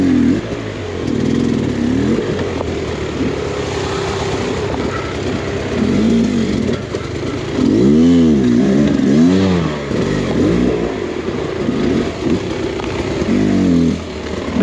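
An enduro dirt bike engine revs hard and unevenly over technical winter terrain, climbing and dropping in pitch with repeated throttle bursts, loud and close throughout with clattering underneath.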